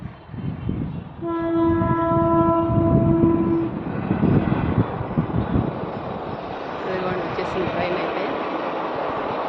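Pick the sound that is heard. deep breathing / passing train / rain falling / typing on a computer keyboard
passing train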